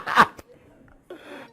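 A single sharp sneeze bursts out loudly at the start, followed by quieter breathing and murmuring from the same person.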